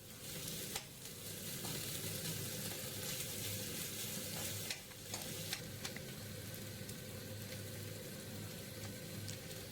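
Onion with ginger-garlic paste sizzling steadily in a pan for an aloo paratha filling, a continuous close frying hiss with a few soft stirring clicks and scrapes.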